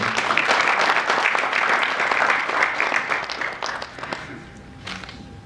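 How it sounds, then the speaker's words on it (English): Audience applause at a national laboratory awards ceremony in Zimbabwe, dense, steady clapping from a crowd that gradually thins and fades over five seconds. "Ladies and gentlemen, a round of applause once again."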